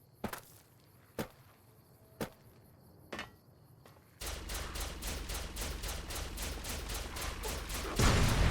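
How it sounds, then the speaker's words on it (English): Recharged pistol firing in Fallout New Vegas, first a few sparse single shots spaced about a second apart, then a loud, rapid, steady stream of energy shots that ends in a heavier blast. "And the recharged pistol just shoots faster."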